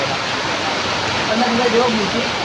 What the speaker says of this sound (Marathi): जोरात पाऊस आला आता पाच मिनटं पडणार